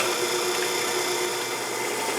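A drill press runs steadily and loudly, boring a 5/16 inch hole into brass, with a continuous grinding whir that holds unbroken and gives no pauses.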